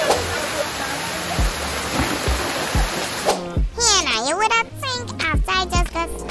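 Tall waterfall in Trinidad roaring as a close, dense wash of rushing water, then voices and calls ring out over the continuing flow.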